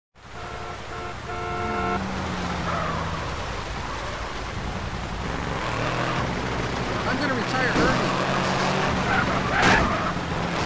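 Cars roll through the streets of GTA San Andreas toward a race, steady engine drone with tire noise building over several seconds, game voices talking over it.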